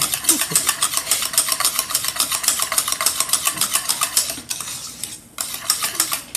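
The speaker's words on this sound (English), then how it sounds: "you're just going to beat this as much as your arthritis will let you" Butter is beaten into a chocolate pie mixture in a pot, with rapid rhythmic scraping strokes of a utensil, close and steady, briefly pausing near the end before resuming.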